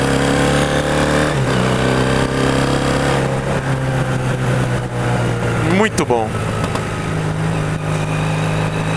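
Engine of a customized 1984 Honda CB400 cafe racer motorcycle, a steady close drone while riding, with a short rising rev sweep near the middle; someone speaks briefly over it.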